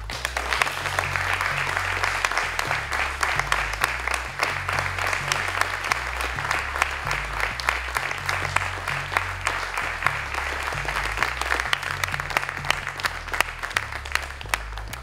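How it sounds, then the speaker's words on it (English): Audience applause at a university Formula 3 race car unveiling, dense sustained clapping from a crowd for the full stretch, with a low rhythmic music beat running underneath. "we'll give it a round of applause"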